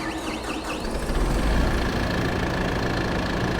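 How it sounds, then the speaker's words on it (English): A farm tractor's engine runs at a steady idle-like rumble, loud and close, with a faint knocking texture and a constant tone throughout, alone without voices. "So we're going to go ahead and get this tractor down to our property"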